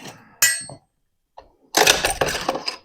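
Metal parts of a Pioneer Arms 5.56 underfolder rifle clang and clatter during disassembly, a sharp ringing clank followed after a pause by a denser burst of close rattling metallic knocks.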